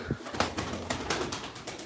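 Tumbler pigeons at a bird auction, soft cooing and a few wing flutters close by but faint, with irregular short bursts of sound against quiet room noise.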